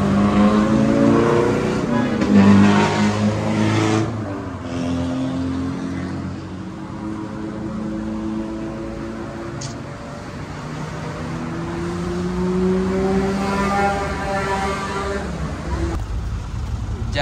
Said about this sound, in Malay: Keretanya kita parking dulu kereta.